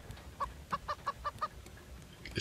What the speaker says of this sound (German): Es gackert mich an.